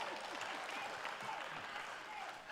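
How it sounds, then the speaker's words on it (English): A small, thin smattering of audience clapping, faint and scattered, a brief pity clap lasting a couple of seconds with no talk. "That's a pity clap."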